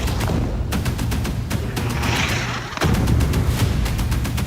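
Missile explosions in Gaza, a loud series of booming blasts and sharp cracks in quick succession, with heavy low rumbling between impacts and a stronger burst near the end, no voices heard.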